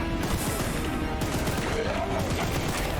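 Rapid, continuous gunfire from a gun in the game Choo-Choo Charles, a dense unbroken volley of shots at steady loudness throughout.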